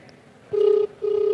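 A phone dials out, two short steady electronic tones sounding close and clear in quick succession.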